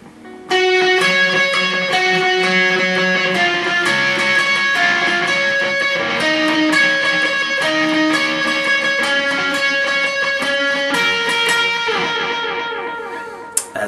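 Guitar playing the chorus riff of a song, a steady run of picked melodic notes ringing clearly and continuously for about thirteen seconds, alone without talk.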